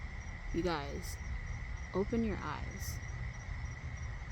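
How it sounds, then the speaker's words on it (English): Crickets chirp steadily outdoors beside water, a constant high thin trill running under a voice that speaks briefly twice. "listening to the crickets chirping"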